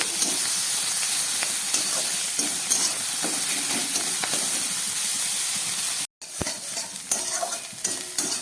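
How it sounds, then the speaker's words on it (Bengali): Very small shrimp seasoned with salt and turmeric paste frying in a wok, a loud continuous hissing sizzle with stirring scrapes, briefly cut off near the end before resuming. "চিংড়ি মাছগুলোকে আমি খুব ভালো করে ভেজে নিলাম।"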